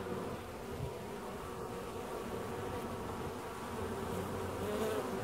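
Honey bees buzzing at a hive on a warm day during a health check, a dense continuous drone of many insects close by, steady and slightly swelling toward the end, with no talk.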